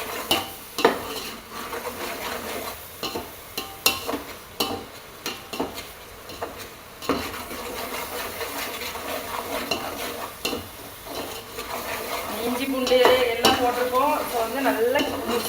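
Chopped tomatoes are stirred in a pan for paneer biryani, with repeated close scrapes and knocks of a utensil against the pan over a soft sizzle that swells toward the end.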